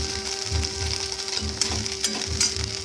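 Small fish frying in hot oil give a steady crackling sizzle with occasional pops and light stirring clatter, close and moderately loud, with no talking.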